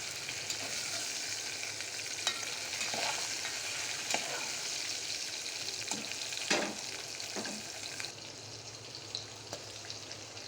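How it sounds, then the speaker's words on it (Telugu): Sliced onions and green chillies frying in a pan for vegetable biryani, a soft, steady sizzle heard up close but fairly quiet, punctuated by occasional spoon scrapes and stirring knocks. "దాంట్లోనే పచ్చిమిర్చి వేసుకొని అవి కూడా కొంచెం బాగా ఫ్రై అయ్యేంత వరకు ఉండించుకోవాలండి."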